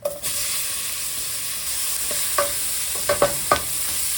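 Shrimp and onion sauté in a hot pan with a soft continuous sizzle, while a utensil stirs and scrapes against the pan in a few short clinks near the end.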